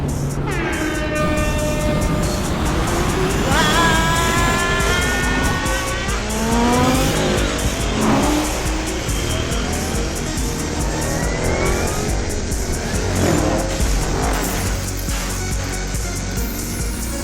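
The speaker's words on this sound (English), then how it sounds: "starts to rev the engine a little" A race car engine revs and whines through rising and falling pitch sweeps, with tires squealing in sharp bursts, loud and close as an audio drama effect, no voices.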